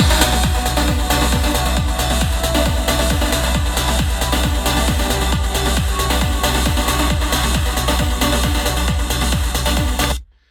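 A driving electronic dance groove from a remix, with a steady kick and layered percussion hits, continuous and loud, cutting off abruptly at the end.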